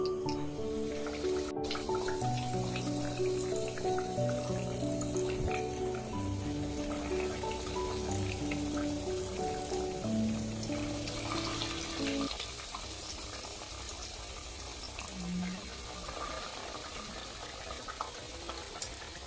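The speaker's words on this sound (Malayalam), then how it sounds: "എണ്ണ നന്നായിട്ട് ചൂടായിട്ട് വന്നിട്ടുണ്ട് നമുക്കിനി കട്ട്ലറ്റ് ഇട്ട് കൊടുക്കാം" Red spinach cutlets fry in hot oil with a soft, steady crackling sizzle, close by and fairly quiet, while sustained musical tones play over the first part.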